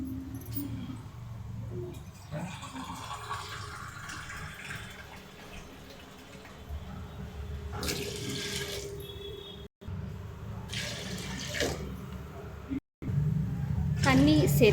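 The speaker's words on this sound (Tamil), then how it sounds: "இப்போ 2 கிளாஸ் தண்ணி சேர்த்துக்கலாம்." Two glasses of water are poured into a cooking pot in bursts with splashing and gurgling, broken by pauses and a low background hum, with no talk over it.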